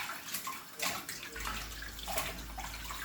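Peas and meat for Jamaican stew peas with pigtails and chicken foot are stirred and rinsed in a bowl of water, giving close, steady sloshing and splashing with brief surges, alone without talk.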